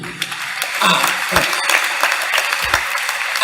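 Church congregation clapping together to acclaim the gospel reading, a dense steady patter of applause filling the room with a few voices mixed in.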